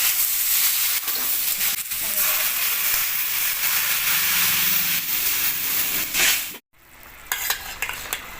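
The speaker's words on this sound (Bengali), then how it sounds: "এবার গরম জল দিয়ে দেবো" Loud, steady sizzling and hissing as hot water meets fried spice paste in a pan for a potato and fish curry, with stirring, a brief sudden drop to near silence, then renewed bubbling.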